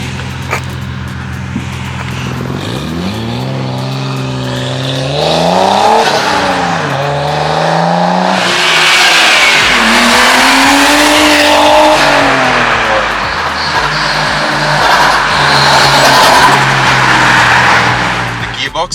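A Nissan R31 Skyline drift car revs hard, its engine note rising and falling through repeated throttle blips before long loud tire squeal takes over, with talk mixed in.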